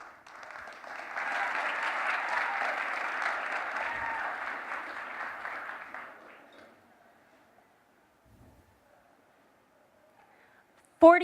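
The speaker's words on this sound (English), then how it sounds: "Let's give her a huge round of applause." An audience at a startup pitch competition finals breaks into steady applause and cheering for about six seconds, then it fades to near silence with a few faint stray sounds.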